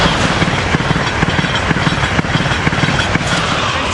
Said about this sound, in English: Here we got Acela train 2170 coming north